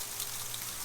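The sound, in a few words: rain falling outside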